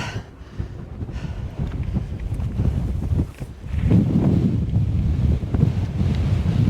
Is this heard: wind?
yes